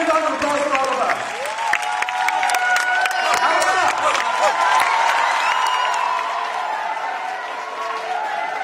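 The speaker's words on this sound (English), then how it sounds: "have a big round of applause for all of us" Audience at a televised quiz challenge show applauding, a dense steady burst of clapping with some cheering and whoops, loud and sustained throughout.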